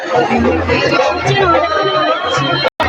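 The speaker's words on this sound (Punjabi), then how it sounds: "ਤਾਂ ਮਿੱਤਰੋ ਭੀੜ ਬਹੁਤ ਹੈ" Dense crowd chatter fills a busy gathering at a pond, many overlapping voices murmuring close by in a steady unbroken babble with no single voice standing out.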